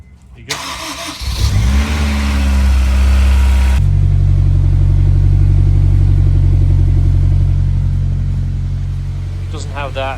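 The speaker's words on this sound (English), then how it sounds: "one thing I am hearing right here sounds like that pulley is noisy" A car engine with a noisy pulley cranks, fires and settles into a loud, steady idle that hums on with a low drone and a faint whining overtone, close by.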